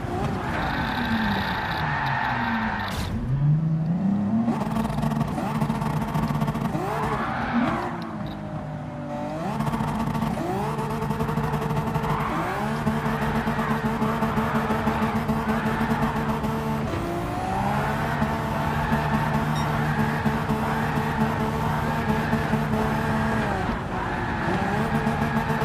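In the Gran Turismo 7 racing game, a race car engine revs continuously through repeated gear changes, with tires squealing at times; loud and sustained with no talking.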